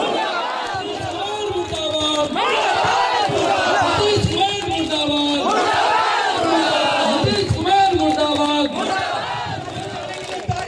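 A large crowd at a political protest in Samastipur, Bihar, chants anti-Nitish Kumar slogans. Loud massed voices rise and fall in repeated call-and-response waves, close and sustained, with no other sound standing out.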